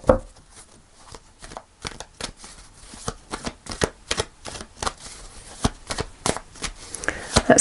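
Tarot cards being shuffled by hand, a rapid run of crisp riffling flicks and soft slaps at close range, with irregular bursts of snapping card edges and no talking.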